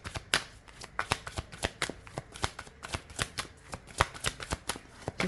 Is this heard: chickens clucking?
no